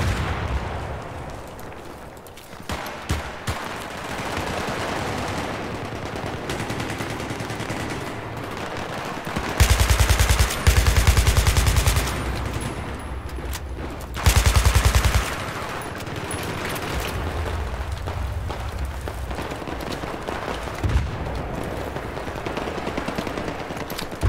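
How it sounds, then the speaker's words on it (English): Dense, continuous automatic gunfire in a Battlefield 3 battle at Talah Market, with sustained rattling bursts and several louder, heavier booming stretches, all close and loud without any talk. "Why are you shooting for no reason"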